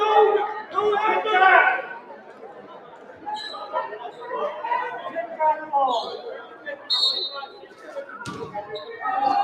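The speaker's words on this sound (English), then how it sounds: "Crowd heckling the officials. Saints fans don't like it early." Fans at a high school boys varsity basketball game in a gym jeer and murmur at the officials, a rising crowd chatter with scattered shouts and a squeak or thud from the court, under close commentary.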